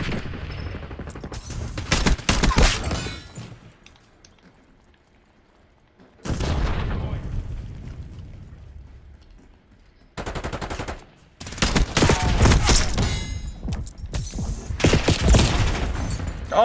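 Rapid automatic gunfire and pistol shots from an online match of the video game Black Ops 6 come in loud, dense bursts separated by short quieter gaps, with no talking over them.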